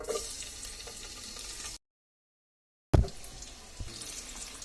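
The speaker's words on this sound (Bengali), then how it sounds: "এখন আমি প্রথমে যে পেঁয়াজ কুচিগুলো আছে সেটা এর মধ্যে দিয়ে দিব" Chopped onions frying in soybean oil, a steady hissing sizzle broken by a brief silent gap, then a thump and renewed sizzling with scraping.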